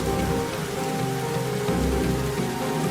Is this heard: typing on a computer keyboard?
no